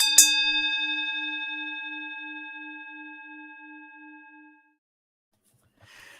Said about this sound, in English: let's hear the bell ring and start with choices